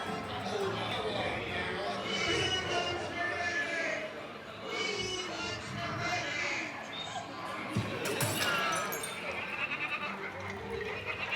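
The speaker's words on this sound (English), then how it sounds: "Goat spotted." A goat bleats amid the noisy indoor Pirates of the Caribbean boat ride at Tokyo Disneyland, partly buried under crowd chatter and ride sounds that run throughout.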